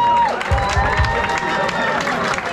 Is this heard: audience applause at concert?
yes